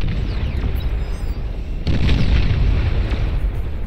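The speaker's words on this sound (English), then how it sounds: "Nuclear bombers are out to try and take down this Titan." Nuclear bomber strikes in the real-time strategy game Beyond All Reason, heard as a continuous loud rumbling barrage of booming explosions that swells heavier about halfway through, with no talk over it.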